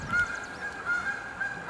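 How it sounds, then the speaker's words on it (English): Geese flying overhead outdoors in the wild, giving several repeated honks at a moderate distance over a steady background hiss of a babbling stream. "Got some geese flying by."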